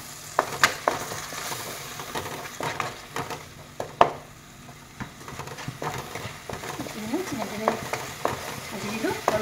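Fish curry ingredients with salt and turmeric sizzle in a pan while a spoon stirs them, producing intermittent scrapes and clinks over a steady low fry, close and moderately loud.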